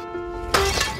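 A pane of supposedly unbreakable glass shatters in a sudden sharp crash, a bright burst of breaking shards that cuts in after quiet tonal music.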